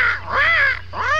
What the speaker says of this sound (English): Howard, keep those birds still.